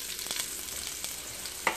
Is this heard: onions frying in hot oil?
yes